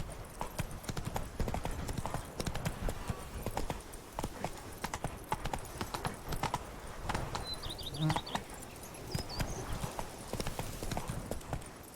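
Steady clip-clop of the horse Roach's hooves trotting in The Witcher 3: Blood and Wine, moderately close and rhythmic, with a faint whinny-like sound and light ambient game noise behind.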